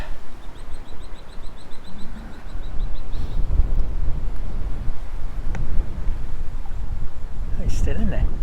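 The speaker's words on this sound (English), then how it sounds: "God, this wind." Wind buffeting the microphone at a fishing spot, a constant low rumbling roar that thickens after three seconds, with faint bird chirps early on and brief squeaks near the end.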